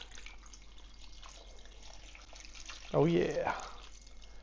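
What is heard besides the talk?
pouring beef broth into a crockpot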